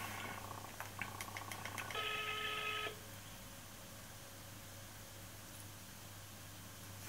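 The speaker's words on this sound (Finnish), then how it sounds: "Mä soitan mun kaverille Ellalle." A phone call is placed: a quick run of faint electronic keypad beeps, then a steady synthetic tone for about a second, followed by a thin lingering tone over low background hum, with no voices.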